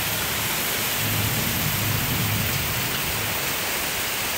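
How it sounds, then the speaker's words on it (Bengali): Heavy evening rain pours down steadily as a dense, constant hiss, with a low rumble of thunder rolling beneath it partway through; no voices are heard. "সন্ধ্যাবেলায় কি প্রচন্ড জোরে বৃষ্টি নেমেছে, দেখো আওয়াজটা শোনো শুধু"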